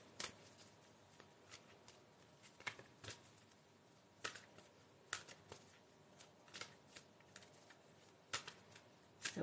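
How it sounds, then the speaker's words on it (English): A deck of tarot cards is shuffled by hand in quiet, repeated crisp riffles and snaps, faint and close, with no voices. "So we're just shuffling these cards"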